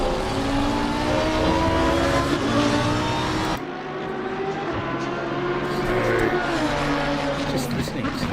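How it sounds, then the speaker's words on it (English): Lamborghini racing car at Suzuka in a PC racing game: a loud, sustained engine howl with shifting revs and a gear change partway through, heard under commentary. "Note from the Lamborghini engine."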